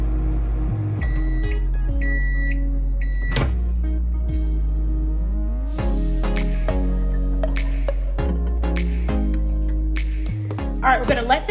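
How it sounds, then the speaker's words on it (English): A microwave oven hums steadily while heating a covered bowl of dip ingredients, opening with a series of button beeps and ending with faint clicks. "I'm going to put this in the microwave for exactly 1 minute."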